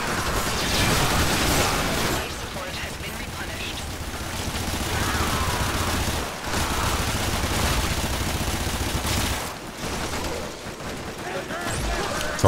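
Rapid, sustained gunfire from a Soma rifle in Warframe, fired in long automatic bursts with short pauses as enemies are cut down, mixed with explosions and mechanical game noise.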